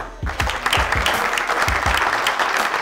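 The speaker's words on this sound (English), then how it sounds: "So clap it up for that." Crowd applauding a panel of Grammy-winning songwriters at a Philadelphia event, steady dense clapping throughout, close and even.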